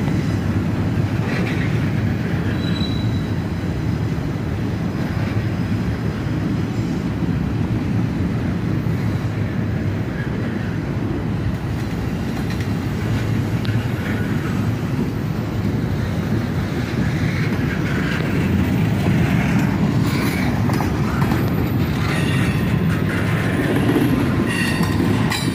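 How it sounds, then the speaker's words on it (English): A long CSX freight train rumbles steadily past in Trenton, a single lead locomotive up front with a distributed power unit mid-train: loud continuous wheel roar and clickety-clack of cars, faint squeals and wind buffeting throughout. "While only this single locomotive is on the front, there's also a distributed power unit in the middle of this train."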